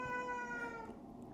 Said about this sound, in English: Oh, my cat is being annoying.